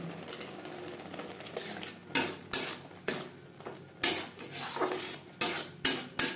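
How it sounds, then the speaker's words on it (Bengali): A spoon scraping and stirring spices with salt, turmeric and red chili powder in a metal pan for a Poa Bhola fish jhal, in close, rhythmic strokes with quiet gaps. "মশলার সাথে লবণ হলুদ ও লাল লঙ্কার গুঁড়ো বেশ ভালো করে মিক্সড করে দেব"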